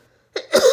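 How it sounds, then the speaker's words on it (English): One short, harsh cough from a sick person with something stuck in the throat, sudden and close after a brief silence. "Sorry, I can't stop coughing."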